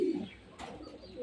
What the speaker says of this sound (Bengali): এই মাক্সি অথবা ব্লু চেকার কবুতরটা